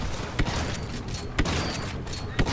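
Shotgun blasts in Star Wars Battlefront 2 (2017): three sharp, evenly spaced shots about a second apart, punching through a steady bed of battlefield noise.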